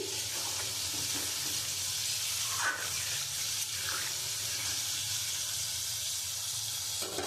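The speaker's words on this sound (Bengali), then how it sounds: "এবার আমি জল দিয়ে দেবো" Water is poured into a pan of potato curry with potatoes, pointed gourd and eggs, a steady close splashing and hissing stream with a few brief sizzling bursts, and no talking.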